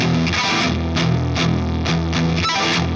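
Heavily distorted electric guitar with single-coil pickups through a RAT distortion pedal and Marshall amp, playing loud, sustained chords with rhythmic accents in standard tuning, thick and saturated with a touch of reverb.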